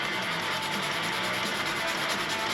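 A handmade custom fishing lure being sanded by hand with 220 grit sandpaper to remove small scratches: a close, steady, continuous scratchy rasp with no pauses.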